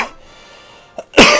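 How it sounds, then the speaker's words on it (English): A single sharp cough bursts out near the end after a quiet stretch, preceded by a brief soft throat sound. "excuse me if I cough a lot during this game."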